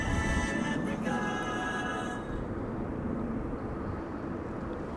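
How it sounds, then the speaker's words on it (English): A KLM Boeing 777-300 arriving at Amsterdam Schiphol from Cape Town in windy weather gives a broad jet roar with a whining engine tone that fades after a couple of seconds, leaving a steady rushing rumble. "KLM flight 508 is arriving. It is a 777-300 arriving from Cape Town"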